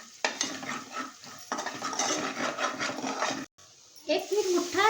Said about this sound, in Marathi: गरम मसाला, मसाला आपण मिक्स करूया छानपैकी.